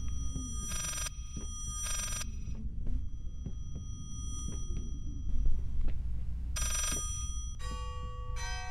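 A telephone rings in the horror video game Layers of Fear, with three bright, buzzing bursts about a second apart, then a longer double burst, all over a low throbbing ambient drone.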